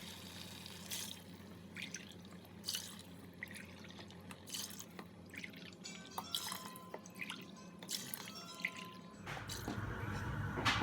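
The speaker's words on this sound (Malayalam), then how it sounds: "ഇനി നമുക്ക് വെള്ളം ആഡ് ചെയ്ത് കൊടുക്കാം." Water poured in glassfuls into a cooking pot for Thalappakatti biryani, heard as scattered drips and splashes that swell into a steadier, louder flow near the end, with no talking.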